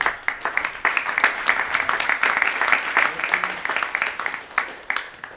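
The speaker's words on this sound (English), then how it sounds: "Let's have another round of applause." An audience gives a round of applause at a talk, a dense, close patter of many hands clapping continuously for several seconds at a fairly loud, even level.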